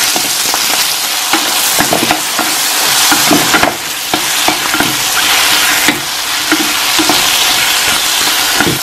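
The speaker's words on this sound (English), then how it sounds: "So now you can go ahead and add your peppers and give it a good mix." Egg and peppers stir-fry in a hot pan, giving a loud continuous sizzle broken by repeated scraping and clattering strokes of the spatula, close up and without talk.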